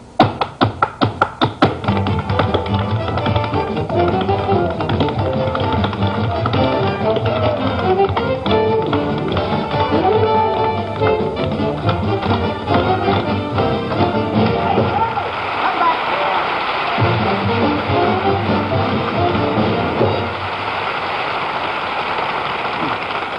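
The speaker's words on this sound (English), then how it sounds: "And what else could you call that but tap dancing?" Metal taps fixed to shoe soles and heels clatter in a fast, bright run at first, then continue as steady tapping under music and a talking voice.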